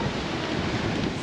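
Steady roaring wind buffets the microphone on a blustery beach walk on the Yorke Peninsula, a dense constant rush with no breaks and no voices.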